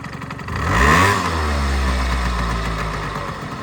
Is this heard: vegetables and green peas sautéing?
no